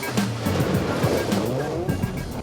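A rally car races hard through a forest stage, its engine and tyres roaring steadily up close, while a muffled voice calls out over the noise.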